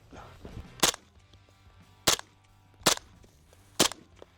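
An MP7 submachine gun fired as four separate sharp single reports spaced about a second apart, loud and close, with faint background noise between shots.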